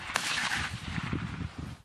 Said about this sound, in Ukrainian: Ось на цьому відео ворожий гранатометник стріляє з РПГ.